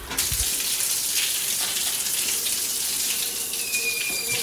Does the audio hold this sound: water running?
yes